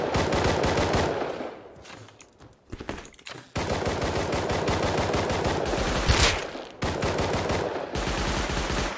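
Rapid automatic gunfire rattles in close, dense bursts in the video game Rust, broken only by a short pause near the start.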